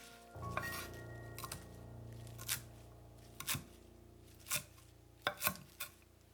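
A knife chops hot chili, mushrooms and cilantro on a cutting board for Thai coconut chicken soup. Soft, irregular chops land about once a second, close and fairly quiet, with no talk.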